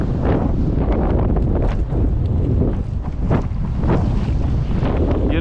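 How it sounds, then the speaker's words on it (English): Strong wind roars across the microphone on rough water from a fishing boat, a steady loud rush with gusting swells and splashing surf, no voices. "The wind is so strong"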